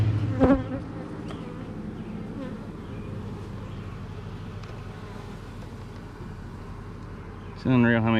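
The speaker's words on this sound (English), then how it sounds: "It's unreal how many bees are in this hive." Bees buzzing around an open, crowded beehive from a caught swarm: a dense, steady hum close by throughout, with a brief voice near the start and a louder buzz near the end.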